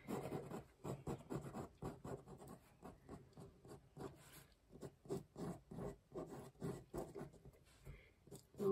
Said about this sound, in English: just literally just loosely wriggle and scribble your pen down to give you the outline